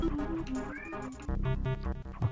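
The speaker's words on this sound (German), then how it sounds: "Deine Katze meldet sich?" A pet cat meows in a room during a German two-player session of Donkey Kong Country 3, several short meows rising over game music and background sound.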